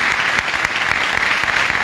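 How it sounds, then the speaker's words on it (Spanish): An audience applauds the ballet of the Estudio de Danza Folclórica La Ribera at a folk dance tribute show. The clapping is loud, dense and continuous, with no voices above it. "fuerte ese aplauso para el ballet del Estudio de Danza Folclórica La Ribera"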